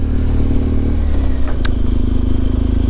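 A motorcycle rumbles steadily as it pulls away from a campsite in Prague, its low engine drone continuous and close, with a brief clatter partway through.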